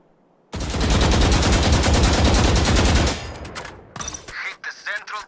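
Sustained automatic gunfire sounds in the Valorant training range. A loud, rapid burst of shots lasts about two and a half seconds, followed by a few scattered impact and effect sounds.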